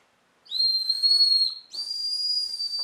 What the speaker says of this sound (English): we each made a willow whistle that works pretty well